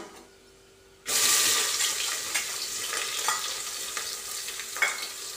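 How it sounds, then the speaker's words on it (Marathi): Two chopped onions dropped into hot oil in a pan for rice khichdi, erupting in a sudden loud sizzle that settles into steady frying crackle with occasional stirring. "आता हे 2 कांदे चिरलेले टाकून घेते."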